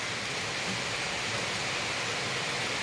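Torrential, nonstop rain pours down during a flood at a house, a dense steady roar of water spread evenly throughout, loud and close, with no voices.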